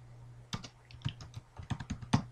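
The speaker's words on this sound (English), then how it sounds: "So we just type in sudo group add" A command is typed on a computer keyboard, a short burst of close, crisp key clicks in an uneven rhythm.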